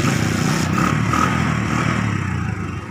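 A motorcycle engine sputters unevenly and labors, its irregular chugging suggesting it is dying and struggling to keep running. The sound is close and moderately loud, with a faint scraping clatter and no voices.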